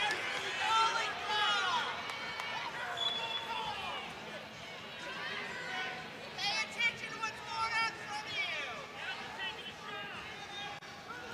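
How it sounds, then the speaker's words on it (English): Arena crowd at a Wyoming vs Oregon State college wrestling dual, a steady roar of many voices with louder bursts of shouting and calling out that rise and fall across the whole stretch. "Some of the crowd calling for a stalling call on that previous exchange"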